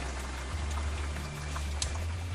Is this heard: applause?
no